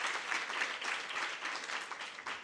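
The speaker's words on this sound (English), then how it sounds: "Can we give ourselves a big hand of applause?" An audience of students and guests at a book club launch applauds in a steady, dense wash of clapping that holds evenly for a couple of seconds, fairly close and with no talking over it.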